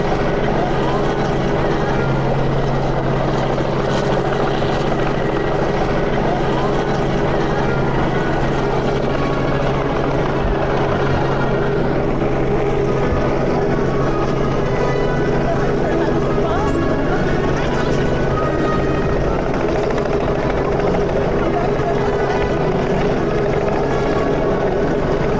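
A helicopter dropping Easter eggs drones steadily overhead for the whole stretch, a constant rotor and engine hum with a low throb, loud and continuous.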